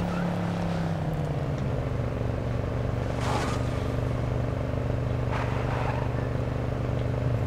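A car engine drives steadily in the zombie survival video game State of Decay, a continuous mid-level motor drone with a shifting pitch and a couple of brief bursts of noise, with no talk over it.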